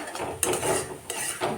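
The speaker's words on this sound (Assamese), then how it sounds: "লৰাই আছোঁ" A spatula scrapes and clinks against a frying pan in quick uneven strokes while stirring duck eggs, with faint sizzling underneath and no talking.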